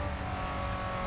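Engine of a small classic Ferrari race car on a rainy Chicago circuit in a racing game, a steady, buzzing drone held at constant pitch, close and continuous, with no talk.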